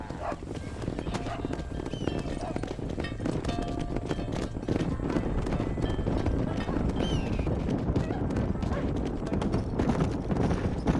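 Continuous horse hoof clip-clop in the Western video game Red Dead Redemption, loud and steady for the whole stretch, with neighs and faint game ambience mixed in.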